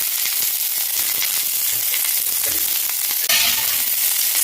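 Onions, curry leaves and dried red chilies frying in hot oil make a dense, continuous sizzle up close, with a few soft stirring scrapes and no speech.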